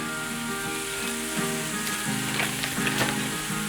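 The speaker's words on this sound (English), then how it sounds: "so you've got a good cook there, so your garlic and your ginger's cooked" Garlic and ginger sizzle and fry steadily in a hot pan for a stir-fried sweet and sour vegetable dish, a close, continuous crackle with faint scraping of stirring.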